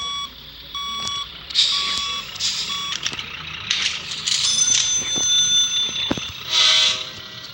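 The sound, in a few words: vehicle reversing beeps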